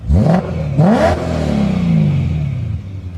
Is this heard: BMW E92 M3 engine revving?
yes